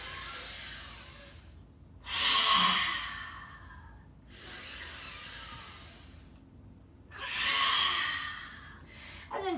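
Two deep, slow breaths during a yoga flow, each a long airy inhale rising and easing off, heard close and alone with quiet pauses between them.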